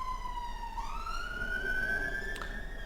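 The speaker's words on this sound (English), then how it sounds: "there's something with a siren going by, which is going to drown everything out" A siren from an emergency vehicle, probably a police car, passes by outside, its wailing tone sweeping upward and holding steady over constant road noise, fairly loud and alone with no talk.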